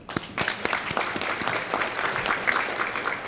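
An audience at a 2017 Ohio Somali graduation and scholarship program claps in a dense burst of applause that holds steady for a few seconds, filling the hall.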